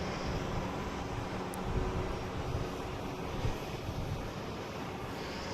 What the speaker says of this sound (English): We have American Airlines taking off on 4 right